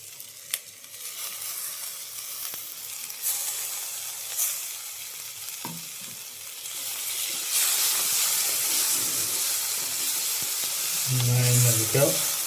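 Sliced tomato joins onions frying in a pan for a Kerala-style meat roast, giving a steady moderate sizzle and hiss with occasional stirring scrapes, running alone and growing slightly louder toward the end.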